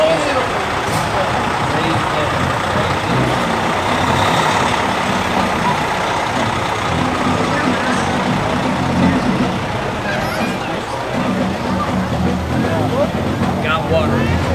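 Shined-up Madison Jefferson Fire Department fire trucks move along a festival parade route, heavy diesel engine rumble continuous and close, with a hiss like air brakes and people talking in the background.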